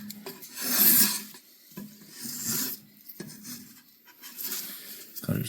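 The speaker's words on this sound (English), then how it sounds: "I'll just fiddle it more with the spoke shave." A spokeshave scrapes along a tamarack wood splitting handle in a series of short, rasping strokes, each swelling and fading with pauses between, close and fairly quiet.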